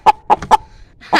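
Chickens kept at a home cluck in a few short, close bursts with gaps between, ending in a louder squawk, with no talk over them.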